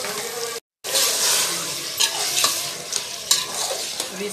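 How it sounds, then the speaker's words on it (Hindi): Kachnar buds with green chilies, minced meat and tomatoes being stirred and fried in a pan, a steady sizzle with scraping stir strokes, close and alone after a brief silent gap. "बीन को हम थोड़ा गलने तक के भून लेंगे"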